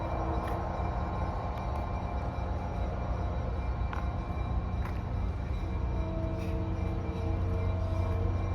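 Steady low rumble and rolling rattle of a train moving past at the Danbury Railroad Museum, a continuous close drone with faint metallic squeals above, no voices.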